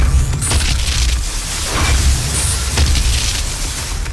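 A Gauss cannon in a video game fires with heavy, booming blasts that roll into one another, a loud continuous low rumble with repeated deep thumps and no talking.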